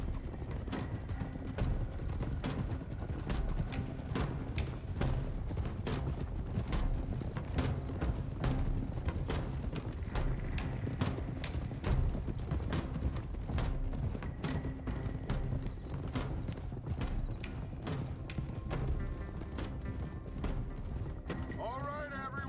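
Several horses clip-clop steadily across ground in the video game Red Dead Redemption 2, their dense, continuous hoofbeats joined by gear rattle and an occasional snort, with voices speaking over them.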